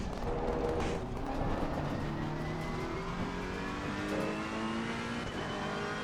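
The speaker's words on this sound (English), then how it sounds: "it's downshifting at least" A race car in Assetto Corsa Competizione, running on automatic shifting. Its engine drones steadily with pitch sweeps as it shifts, loud and continuous throughout with no voices.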